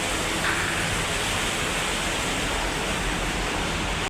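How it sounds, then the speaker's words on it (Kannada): Dirty wastewater pours from a pipe at a village water tank, making a steady, loud, broadband rushing and gushing noise that stays constant throughout, with no voices. "ಇವು ಹೊಲಸು ನೀರು ಹೋಗೋದು ಇದು ಪೈಪ್"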